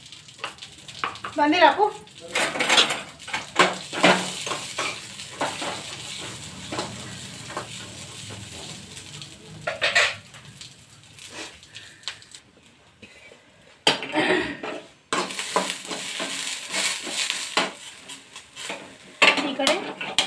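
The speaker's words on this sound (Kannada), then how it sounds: "ಇದಕ್ಕೆ ಒಂದು ಸ್ವಲ್ಪ ಎಣ್ಣೆ ಹಾಕಿ ಚುರುತ್ನಾಗ ಹುರಿತೇನೆ ನೋಡ್ರಿ" Food frying in a little oil in a pan for an Uttara Karnataka meal with drumstick saaru, with stirring, clinking utensils and pot sounds, close and moderately loud, while people talk over it at times.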